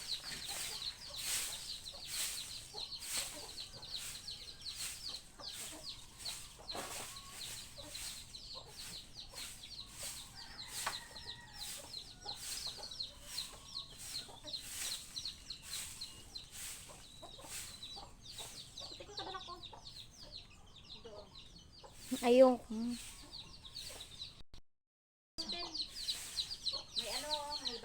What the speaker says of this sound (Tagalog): May ano, may bagong anak na manok.